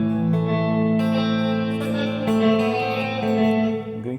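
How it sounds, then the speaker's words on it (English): A guitar plays through a custom-built reverb effects pedal with a slapback delay. It gives a sustained, ringing chord washed in reverberation and echo that holds steady, then fades at the end. "I just switched the reverb mode here."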